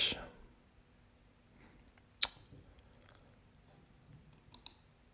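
Computer mouse clicks while working in a web keyword search tool: two faint, sharp clicks, the first near the middle and the second near the end, over quiet room tone.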